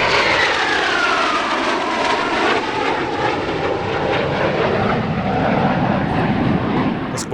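A single-seat US Navy F-5E fighter jet, ex-Swiss Air Force, roars past at an airshow, a loud sustained jet howl with a sweeping pitch shift as it passes overhead.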